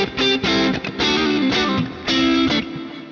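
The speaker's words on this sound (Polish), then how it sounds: "Zmuśmy teraz strata, żeby trochę nam tutaj pochrupał" A Stratocaster electric guitar crunches through an overdrive and booster pedal, loud strummed chords in bursts with short pauses between, distorted and close, no talking.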